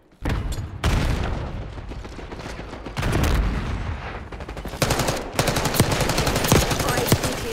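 Rapid bursts of automatic gunfire and single shots from Call of Duty: Black Ops 6 multiplayer, loud and close, with sharp repeated cracks clustering toward the end and dense firing throughout.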